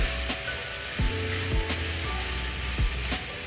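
Whole moong beans stirred into a sizzling homemade spice masala, a steady loud frying hiss broken by several scraping stirs of a spoon against the pan, with no talk.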